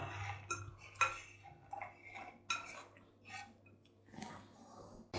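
Light clinks and rattles of chopped sandwich biscuits dropping into a bowl, several short irregular taps close by in a quiet room.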